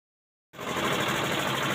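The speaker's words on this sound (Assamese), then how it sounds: "এতিয়া মেচিন ষ্টাৰ্ট কৰিলো" A construction machine for casting a concrete roof slab at a 1200 square foot house build in Jorhat, Assam, starts suddenly after silence and settles into a loud, steady, rattling engine drone close by.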